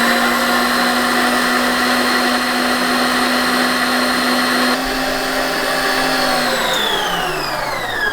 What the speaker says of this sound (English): I love this little mixer. I love it. And I'm putting it on high for 10 minutes.